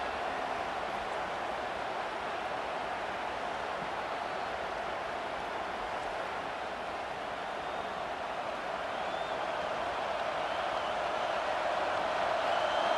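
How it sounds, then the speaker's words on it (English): A stadium crowd in the football game College Football 25 roars in a dense, steady wash of cheering and noise that swells slightly toward the end, with no clear talk. "Decibels rising as the crowd gets behind this defense on third down."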